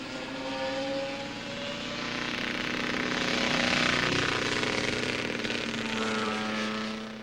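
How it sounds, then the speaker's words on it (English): A sick-sounding racing motorcycle engine touring at reduced pace during the 1977 Transatlantic Trophy race, droning steadily with a rough, wavering pitch that swells louder near the middle before easing off, with no talk over it. "And just listen to this very sick motorcycle."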